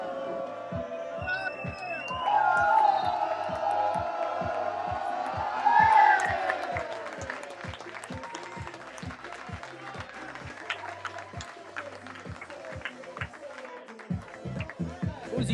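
Geraci football fans cheer and call the team over beneath the stand, a loud crowd roar with clapping and shouts, swelling in bursts over a rhythmic music beat throughout.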